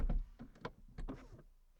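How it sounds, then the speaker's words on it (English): The power-operated door of a Rolls-Royce Spectre closes by itself, a quiet motorized whir with a few soft mechanical clicks and a gentle thunk, heard alone. "And just like that, the door closes."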